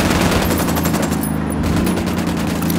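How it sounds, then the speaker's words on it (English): Rapid automatic gunfire in Ghost Recon Wildlands, a loud, dense and continuous burst of shots close by with a short break partway through. "Taking a shot."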